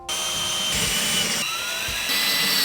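A power drill re-drilling pilot holes for lag screws into wall studs while a train room is being finished, running continuously and close up for the whole stretch, with a slight change in pitch partway through.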